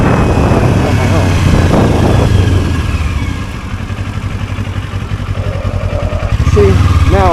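A 2025 Kawasaki Ninja 500 SE KRT motorcycle putters along at low speed under clutch control. The engine thrums loudly and close, dips in the middle and swells again near the end, while someone talks over it.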